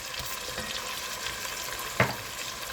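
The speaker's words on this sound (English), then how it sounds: "we're going to put that garlic in with it. Let it saute up" Garlic sautéing in a pot for a Gullah chicken stew, a steady close sizzle and crackle of frying with a soft stir or clack partway through, no voices.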